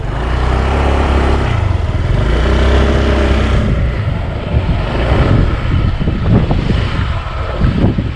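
A 2021 Honda PCX scooter being ridden, its engine a loud close hum with wind rush that steadies and then rises and falls with acceleration.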